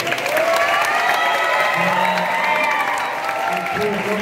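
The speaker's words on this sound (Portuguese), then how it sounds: "Tá com a salva de palmas aqui dele." A round of applause from the audience at a school Passion of Christ performance in Teresina rolls steadily throughout, mixed with crowd voices and sustained tonal sound.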